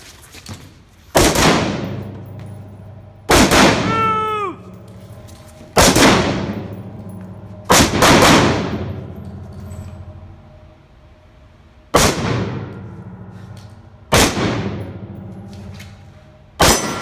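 Carbine shots during a shooting drill, seven loud sharp reports spaced a second or two apart with ringing decay, one followed by a brief metallic whine, close and alone.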